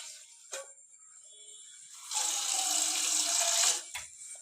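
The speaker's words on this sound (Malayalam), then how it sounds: "ഈ ഇലയിലൊന്ന് കഴുകണം" Tap water runs into a sink for a couple of seconds while leaves are washed, with a few brief knocks and handling noises before and after.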